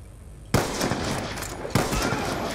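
Video game gunfire, likely from a ballista, sounds in two loud, sharp reports about a second apart, each followed by a noisy, echoing tail. A low ambient hum runs beneath them.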